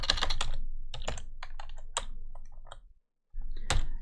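Fingers typing on a computer keyboard, close and clear, with a quick run of clicking keystrokes, a short silent pause, then a few more taps.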